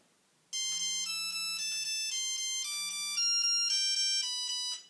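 A Nokia 3310 mobile phone plays a custom composed ringtone, a clear, tinny monophonic melody of bright beeping notes with a low buzzing accompaniment, loud and alone after a short silence.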